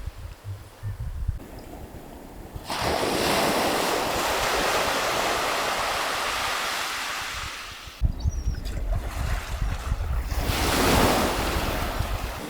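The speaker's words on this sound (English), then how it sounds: "I'm filming the sea." Sea waves surge and crash on a rocky shore at Porthor in two broad swells, hissing and roaring up close amid gusty wind noise.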